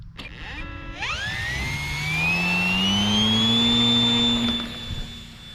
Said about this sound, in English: Turn the motor on.